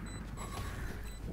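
A weapon reloading in the Valorant video game: a brief run of mechanical clicks and ratcheting clacks over a steady, dense game backdrop, close and moderately loud.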